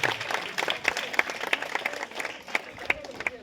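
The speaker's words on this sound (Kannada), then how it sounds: "ಜೋರಾಗಿ ಚಪ್ಪಾಳೆ ಬರಲಿ ನಮ್ಮ ಚೈತ್ರ ಅವರು." Enthusiastic applause from an audience of schoolchildren at a kho-kho tournament event, a dense burst of many hands clapping steadily for a few seconds with occasional sharper claps standing out.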